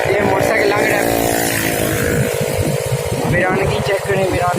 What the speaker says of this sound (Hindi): ये मोटरसाइकिल लग रहा है